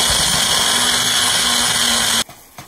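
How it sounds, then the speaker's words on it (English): A food processor or blender chopping peanuts for turkey lettuce wraps, a loud steady motor whir with whining tone that runs continuously, then cuts off abruptly near the end. "we're gonna chop up these peanuts"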